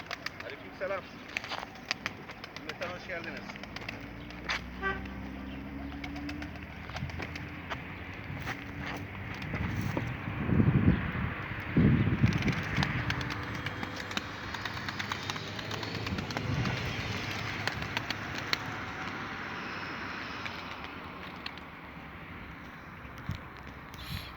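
Pigeons coo and flutter around a loft, with wingbeats and shuffling steps over a steady busy background and occasional voices.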